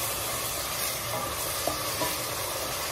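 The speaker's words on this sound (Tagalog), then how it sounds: "Halo-haloin natin siya guys." Onions turning light brown in a frying pan, stirred with a utensil, give a steady broad sizzle with a few soft scraping taps near the microphone; no one talks.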